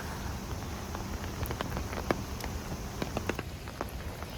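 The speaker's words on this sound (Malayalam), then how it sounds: "ഇപ്പം ആ മഴയുടെ ആ തീവ്രത കുറഞ്ഞിട്ടുണ്ട്" Steady rain pattering on a street in Xiamen, China, a dense even wash of drops with scattered sharper splashes and ticks, moderately close and fairly quiet, with no voices.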